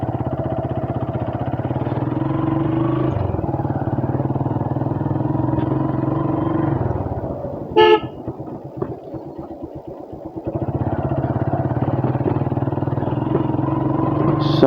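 A motorcycle engine running as it heads out to be washed, a steady close drone that dips briefly with a clatter midway, then resumes at full level, no talking.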